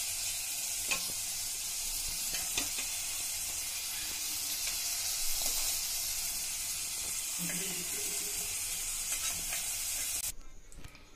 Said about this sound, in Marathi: आता तेल गरम झाले आहे, आपण त्यात पनीर टाकून घेऊ।